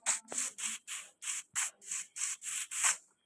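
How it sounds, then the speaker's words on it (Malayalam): Repeated block-chopping hits on a tree in the game Minecraft, about ten evenly spaced, bright scraping thumps in quick rhythm, close and moderately loud with no talk over them. "മരം വെട്ടാം നമുക്ക്."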